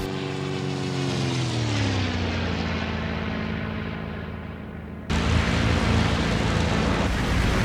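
Yak fighter plane engine roaring through a climb and dive, a loud close propeller drone whose pitch sinks as the aircraft slows, then jumps to a fuller, harsher roar as it gains speed.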